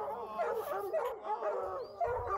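Bear hunting dogs barking and yipping on a hunt, with several close, excited barks and whimpers that come in quick irregular bursts across the short stretch.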